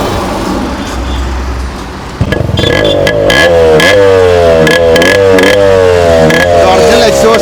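Yamaha RX100 two-stroke motorcycle with its original exhaust, engine revved repeatedly after a quieter start, loud and close, with rising and falling pitch sweeps from each throttle blip.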